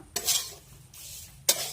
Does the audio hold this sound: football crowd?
no